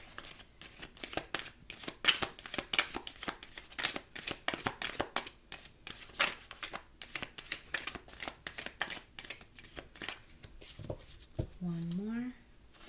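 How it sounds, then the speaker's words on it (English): Tarot cards are shuffled in quick, crisp riffles and snaps, a dense run of sharp flutters, ending with a brief voice. "let me go ahead and shuffle and see what else comes out for them"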